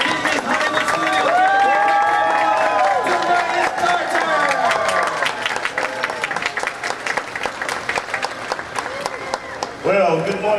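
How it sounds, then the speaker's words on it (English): A large crowd at Disney's Hollywood Studios cheers and whoops loudly during a 20th anniversary celebration and rope drop, with whistles and applause that swell, then fade into babble. "Get ready to cheer out there."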